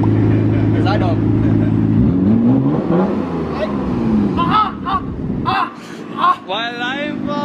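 A loud car exhaust roars and revs for a couple of seconds, pitch sweeping up and down, followed by excited voices talking and laughing.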